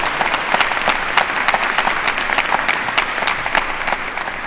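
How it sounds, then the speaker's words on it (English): Steady round of applause from an audience at a school board meeting, honoring a Cy-Fair junior diver, with dense clapping carrying evenly for several seconds. "Again, one more round of applause for Cy-Fair junior Ashlyn Peters."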